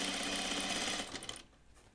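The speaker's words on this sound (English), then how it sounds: "My machine sounds different, but I think it's because my brother helped me get the throat plate off." A sewing machine with its throat plate removed runs in a steady, close mechanical whir, then winds down and fades out toward the end.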